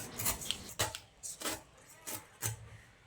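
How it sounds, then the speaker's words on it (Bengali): A knife slices the peel off a young green jackfruit in five separate strokes, each a short, close, scraping cut with quiet pauses between them. "এবার আমি এঁচোড়ের এই খোসাটাকে কেটে ফেলে দিচ্ছি।"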